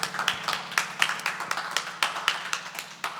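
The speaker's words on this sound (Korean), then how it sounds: "하나님 아버지께 큰 박수로 영광 올려드리겠습니다" Church congregation clapping at an early-morning special prayer service, heard as a rhythmic series of sharp, close handclaps in a steady beat, with a low hum running underneath.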